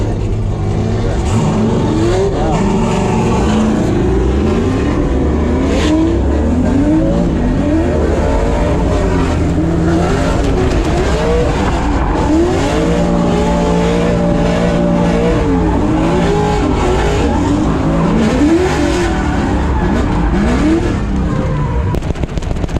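A drift car works hard around a track, its engine revving and wailing in rising and falling sweeps with some tire noise mixed in. The sound stays loud and close the whole time and carries on without a break.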